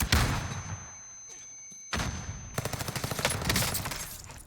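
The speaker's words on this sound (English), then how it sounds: "Throws a stun grenade." A stun grenade goes off in a video game, a sharp blast followed by a ringing tone and then a burst of rapid, crackling gunfire-like pops, loud and close.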